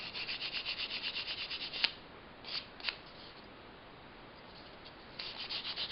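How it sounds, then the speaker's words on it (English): Sandpaper rubs a polymer clay pendant in quick, close, rhythmic back-and-forth strokes, which pause midway for a couple of light taps and then resume. "And you can sand it a little or a lot."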